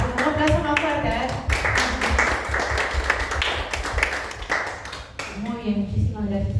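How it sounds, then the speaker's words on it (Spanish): Audience applause at a Spanish-language event, clapping swelling loudly for about four seconds amid crowd noise, with speech at the start and end. "Un aplauso más fuerte, a ver."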